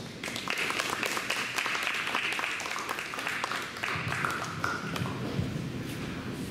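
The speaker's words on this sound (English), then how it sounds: "Let's give a round of applause." A crowd claps steadily through the whole stretch, dense and fairly loud, as applause for a hypnotist at a post-prom show.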